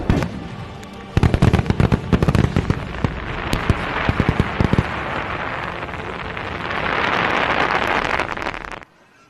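Firecrackers crackle in rapid, loud bursts, then a dense, sustained roar of fireworks fizzing and popping that cuts off abruptly at the end.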